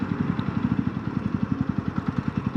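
A Yezdi Roadster cruiser motorcycle engine chugs at low revs in second gear with no throttle, a steady, even pulse, close by and moderately loud, ticking over as it rolls gently away.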